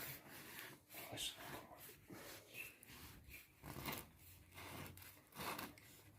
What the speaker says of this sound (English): we're going to slice a couple slices of bread here